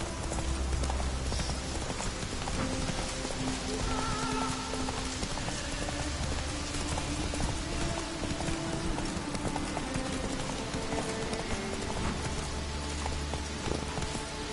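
Roach, a horse in The Witcher 3, gallops with steady rapid hoofbeats throughout, loud and close, over a constant rain-like hiss and low background ambience, with no voices.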